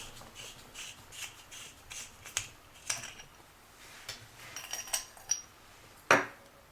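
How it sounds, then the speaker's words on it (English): AAA batteries slid one by one into a small LED UV flashlight, giving light rattling, rubbing and sharp clicks at irregular intervals, close and fairly quiet. "Got some AAA batteries here. Supposed to be three of those in this type of flashlight."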